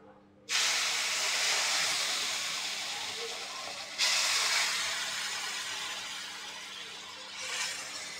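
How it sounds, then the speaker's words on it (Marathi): Boiling water hits roasted semolina and ghee in a pan and bursts into a loud hissing sizzle that slowly fades. A second pour sets off another sharp burst of sizzle. "तर हे उकळतं पाणी आहे ते आपण याच्यामध्ये ओतून घेऊया."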